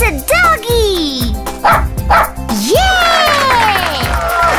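Toy dog from a surprise egg gives a yipping bark amid bright, excited child-style narration and playful music, the bark short and close under the chatter.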